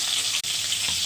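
Ginger, green chilli, poppy seeds, cashews and melon seeds fry in oil in a pan for a dudh potol spice paste, giving a bright, even, close sizzle that cuts out for an instant midway.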